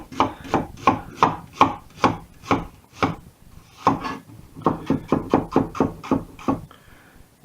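Knife chopping an onion on a wooden board for sausage and mash with onion gravy: a brisk, steady run of close, sharp chops, a short pause, then another rapid series of cuts.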